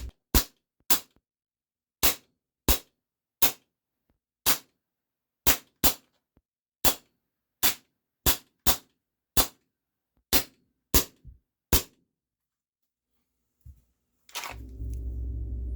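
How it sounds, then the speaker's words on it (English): A CZ 75D Compact BB pistol fires steel Hornady BBs in double action at close range, about 4.5 yards: roughly sixteen sharp, snappy shots spaced at an uneven rhythm, followed by a brief rustle and a steady low hum at the end. "This will be double action with the steel Hornady BBs."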